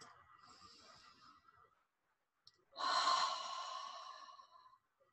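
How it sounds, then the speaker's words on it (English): Slow, relaxed breathing close to the mic. One soft, airy breath is followed by a short silence, then a fuller, louder breath that fades out gradually. "Take a nice, comfortable breath."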